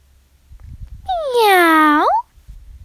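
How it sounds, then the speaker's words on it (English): One drawn-out cat meow rises and then bends upward, loud and near, against quiet background noise, in a stop-motion doll scene. "Meow."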